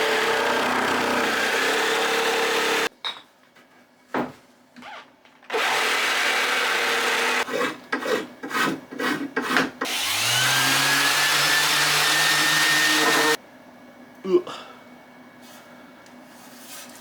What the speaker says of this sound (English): we'll just round it over with the sander and stuff